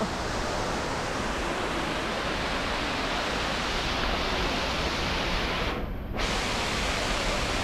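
Steady broadband roar of water pouring down a man-made waterfall, loud and continuous throughout, with a brief dip near the end.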